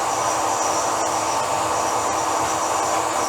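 A saw cuts a piece of one-inch round metal stock in the background of a workshop, a steady hissing, whirring drone that holds evenly throughout at moderate level with no voices.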